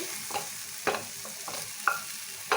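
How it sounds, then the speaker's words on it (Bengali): Masala spices fried with onions in a pan for fish kachori are stirred, producing soft intermittent scrapes and light sizzling at a close but quiet level, with no talking. "দেখো মশলাটা ভালো করে কষানো হয়ে গেছে।"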